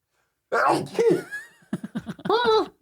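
A sneeze bursts out at close range, followed by a short break and then people talking nearby.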